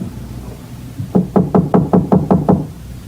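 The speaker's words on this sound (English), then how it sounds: "But nobody answered my knock." Seven firm, evenly spaced knocks on a wooden door, a radio drama sound effect for a house on a back road outside town, close and alone after a brief quiet start.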